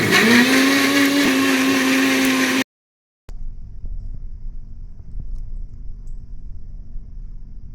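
A mixer grinder blending juice whirs loudly for a few seconds, then shuts off abruptly, leaving a faint low hum of a running air conditioner in the room.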